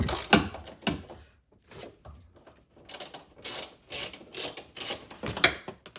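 A ratchet loosens a strut bar nut on an Acura RSX Type S, giving bursts of rapid mechanical clicking separated by short pauses, close and fairly loud with no talking.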